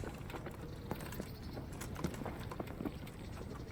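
Horse hooves clip-clop at a steady trot in the video game Kingdom Come: Deliverance, a series of light, regular knocks over a soft background bed, quiet and without speech.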